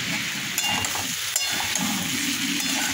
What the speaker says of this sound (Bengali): পেঁয়াজ দিয়ে কালো জিরে দিয়ে শুকনো লঙ্কা দিয়ে কুতলি আলু ভাজা হয়ে গেল